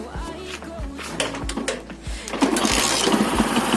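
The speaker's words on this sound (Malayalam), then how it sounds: "ഞാനൊന്ന് കിക്കർ അടിക്കട്ടെ കേട്ടോ." A motorbike being kick-started after carburetor cleaning: repeated low thumps of the kicker, then the engine catches into a steady rough idle, close up.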